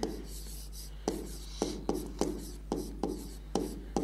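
A teacher writes notes during a biology lesson. The chalk or marker makes a series of short scratchy strokes in an uneven rhythm, close and clear, with a low hum underneath and no talking.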